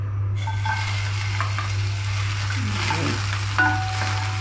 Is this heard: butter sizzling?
yes